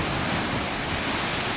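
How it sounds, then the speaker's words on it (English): Ocean waves crashing against the rocks below a large cliff at Puerto Viejo, a brief, steady surf roar with some wind noise, loud and close. "Waves crashing in."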